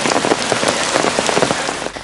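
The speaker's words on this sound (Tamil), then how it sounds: "ஹட்டன் பிரதேசத்தில் இன்று கடும் மழையுடன் கூடிய பனிமூட்டம் காணப்படுகின்றது" Heavy rain pours steadily in the Hatton hill area, a dense, loud, unbroken hiss of drops hitting surfaces with no voices.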